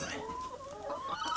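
Chickens clucking close by, a steady run of short throaty calls with overlapping bird voices and no talking.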